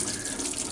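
Water rushes steadily through a tube cooling a 1948 Nash engine, giving a brief, continuous splashing hiss with no pauses.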